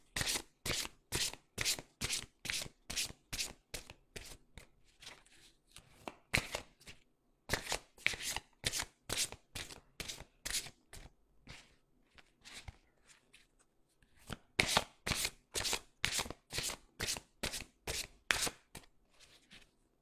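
Oracle cards are shuffled by hand for a tarot-style reading, with rapid, close riffling bursts repeated in quick rhythmic runs and brief pauses between sets.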